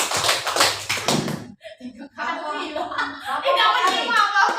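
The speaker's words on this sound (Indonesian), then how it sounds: "Yang masih menyimak pernyataan saya tepuk tangan 3 kali." A school group in Bengkulu Tengah claps hands in a short burst of sharp claps at the start, followed by a pause and then someone speaking.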